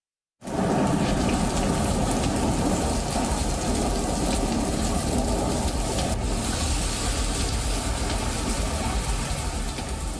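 Heavy cyclone rain pours down in Chennai, a loud, dense, unbroken roar that starts abruptly and keeps going steadily without any voices.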